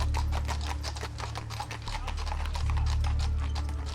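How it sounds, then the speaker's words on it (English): Horse-drawn stagecoach pulling into an old gold-panning town, its hooves clip-clopping in a steady, rapid rhythm over a constant low rumble, close and continuous. "the rumble of a stagecoach pulling into town."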